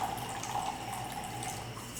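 Dechlorinated water poured into a pot for making mead, a steady, continuous trickling stream that runs evenly for about two seconds, fairly faint with no voices.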